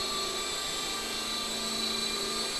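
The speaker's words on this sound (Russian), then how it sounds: "вертолет только-только набирает свои обороты и готов уже оторваться от стартовой площадки" A 450-size RC helicopter spins its rotor up for takeoff from a launch pad, giving a steady, loud, close-up turbine-like whine with a bright high buzz that holds through the whole stretch, with no talking.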